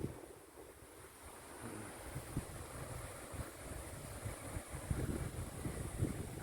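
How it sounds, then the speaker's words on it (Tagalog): Strong wind blows by the sea, a faint, rumbling gusty rush mixed with the wash of surf, rising slightly toward the end, with no voices. "Malakas yung hangin."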